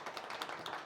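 Audience clapping at a research report meeting as a new section chief is introduced, a dense, steady patter of many hands lasting about a second at moderate level, with no talk over it.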